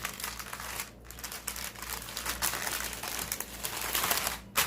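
Parchment paper crinkles and rustles while pork steaks cut from a Boston butt are wrapped, bursts of crackling handling near and loud with brief pauses between folds.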